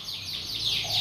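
A Yorkshire canary chirps and trills continuously, bright repeated sweeping notes heard close and fairly loud, with a low background hum underneath and no talking.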